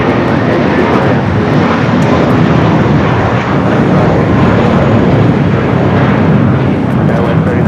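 At LAX, a jet airliner roars loud and steady for several seconds as a broad, continuous rumble of engine noise, with voices faintly mixed in beneath it.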